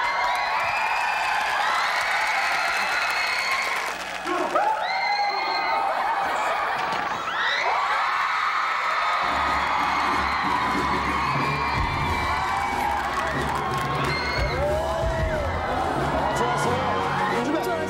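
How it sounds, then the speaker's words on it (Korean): A television variety show audience cheers and shouts in a steady, loud roar of crowd noise, with whoops and laughter rising and falling throughout. "박수!"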